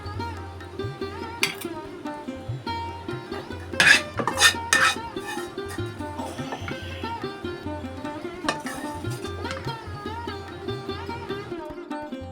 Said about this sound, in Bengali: এখন আমি চিচিঙ্গা আলুটা সার্ভ করে দিচ্ছি